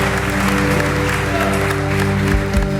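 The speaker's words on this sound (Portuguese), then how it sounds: "Diga amém e aplauda Jesus" Dense, loud applause from a church congregation fills the space throughout, with a steady hum underneath.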